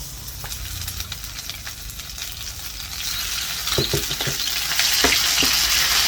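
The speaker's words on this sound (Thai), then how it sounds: "แล้วเราก็ผัดพริกแกงนะคะ" Curry paste stir-fried in a pan for a Thai eggplant and pork dish, giving a steady, close sizzle and fry hiss that swells louder toward the end, with a few sharp scrapes and clinks of a spatula stirring.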